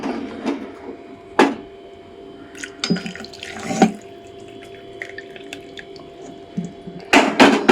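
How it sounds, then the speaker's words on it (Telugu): Water splashes and trickles into a pot of dried red chilli and rice curry in several short bursts, with drips and sloshing between quieter pauses, close by. "ఇప్పుడు ఇందులో మనం ఆల్రెడీ సపరేట్గా తీసి ఉంచుకున్నటువంటి నీటిని యాడ్ చేసేసుకుందాం"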